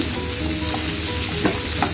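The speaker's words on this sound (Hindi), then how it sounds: "और इसको ज्यादा नहीं पकाना है, हल्का सौते करना है" Vegetables for red sauce pasta lightly sautéing in a pan give a steady close sizzle with a few soft stirring scrapes, alone and without talk.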